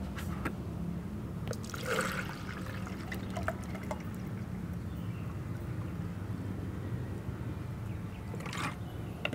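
Rice-washing water pours steadily into a measuring container for a liquid organic fertilizer mix, a continuous close splashing stream with a few brief clinks and rustles.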